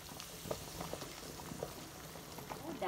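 Double cream poured into a hot frying pan bubbles and sizzles steadily, a soft continuous crackle with small pops throughout, fairly close and quiet.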